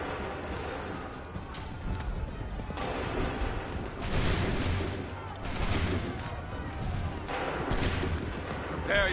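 Musket volleys fired on command in the Assassin's Creed 3 video game, dense crackling gunfire bursts repeating every second or two over a steady battle din, with shouted voices mixed in.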